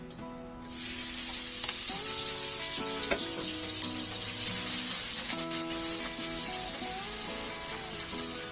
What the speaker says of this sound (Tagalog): gigisan natin ang ating sibuyas at ng bawang. Unahin na natin yung sibuyas.